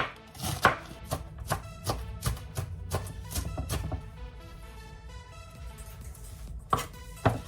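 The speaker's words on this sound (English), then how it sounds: "This is romaine lettuce. Cut it into thin slices." A knife chops romaine lettuce into thin slices on a cutting board, a steady series of crisp, close knocks with a short pause before the last few cuts.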